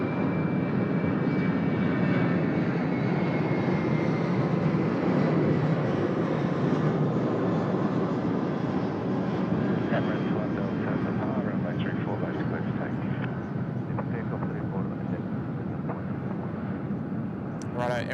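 An airliner arriving at Sydney Airport from San Francisco gives a loud, continuous jet engine roar that holds steady throughout, with a voice talking faintly underneath.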